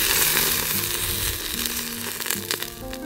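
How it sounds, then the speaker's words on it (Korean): Dry-aged beef steak sizzling loudly over a charcoal grill, a dense, continuous crackle and hiss close by, with a few sharper pops and scrapes toward the end. "자, 이제 숯불에 한번 구워보도록 하겠습니다."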